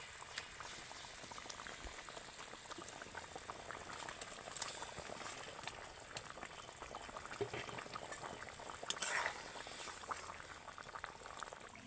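Paneer pieces simmer in a boiling curry gravy, a steady, soft bubbling and popping that runs throughout at low volume with no one talking.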